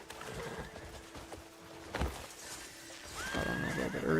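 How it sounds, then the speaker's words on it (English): A legendary horse in the video game Crimson Desert whinnies loudly and clearly while its hooves clop steadily, with a second neigh rising near the end. "Here's the legendary horse."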